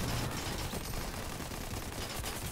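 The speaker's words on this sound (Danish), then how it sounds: "Den der SMG i Primal, den skyder ret hurtigt." Rapid SMG gunfire in the video game Fortnite, a dense fast-rattling burst of shots that fills the whole clip at low volume, with no talk over it.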